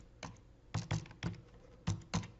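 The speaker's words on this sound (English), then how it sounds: "I'm going to type Bob in here." Typing on a computer keyboard, close and fairly quiet, with a handful of separate key taps spaced irregularly over a couple of seconds and no speech.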